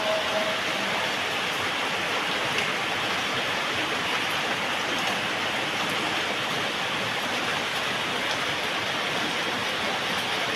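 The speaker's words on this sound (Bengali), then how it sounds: "ঢাকা সহ আশেপাশের এলাকায় অনেক বৃষ্টি হচ্ছে" Heavy rain in Dhaka pours down in a dense, steady hiss that never lets up, filling the whole scene evenly from start to finish.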